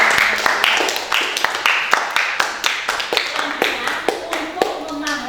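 Classroom applause for two student discussion groups at a teaching session: steady rapid clapping from a room of people, fairly loud and close, continuing throughout with faint voices underneath.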